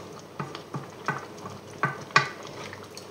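Squid cooking Basque-style in a pan sizzles softly and quietly, broken by a series of light spatula scrapes and clinks against the pan.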